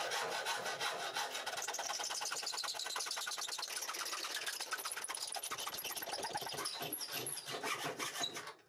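A motor-driven belt pulley wheel on a small 3D-printed Arduino car rubs against the corners of its mounts, making a fast, steady scraping whir that runs continuously and close by before fading out.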